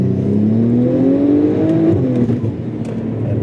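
A Porsche 997.2 Turbo tuned to 750 hp with a Stage 4+ kit and PDK gearbox pulls hard, its engine drone rising steadily, then dipping at a quick shift around midway before climbing again, heard from inside the car without talk.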